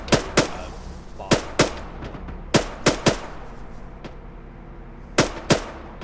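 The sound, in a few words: gunfire in video game Arma 3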